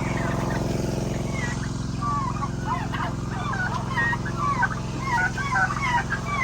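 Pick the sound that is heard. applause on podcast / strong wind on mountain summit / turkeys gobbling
turkeys gobbling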